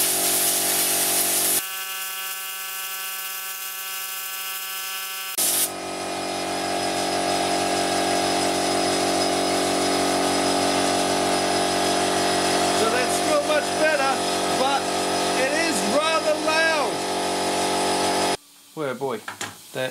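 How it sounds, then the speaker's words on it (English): An air compressor blasts gunked-up filters clean with a loud, continuous hissing roar that stops briefly, then resumes with fluttering whistles. Clattering comes at the end. "So I'll just give that a zap with the air compressor to show you what I mean."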